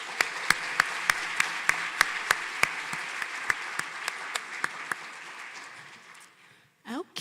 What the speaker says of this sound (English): give the leadership team a round of applause